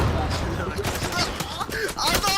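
Gunfire in a multiplayer video game crackles as dense, overlapping volleys of shots that run steadily throughout, with players talking over it.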